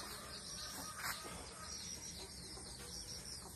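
Chickens cluck softly and steadily on a farm, faint and somewhat distant against a constant background hum, with no talk.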